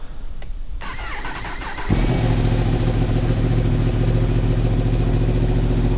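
A 2024 Yamaha YZF-R1 sport bike is started for the first time: a brief starter crank cuts in after a quiet moment, then the engine catches and settles into a loud, steady, close-up idle.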